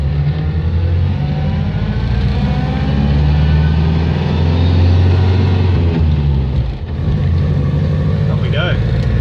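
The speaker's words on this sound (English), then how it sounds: "Got to keep the revs up." Inside a moving Morris Oxford on a test drive, the engine drones loud and close as it revs through the gears, with a deep steady rumble that dips briefly near the end.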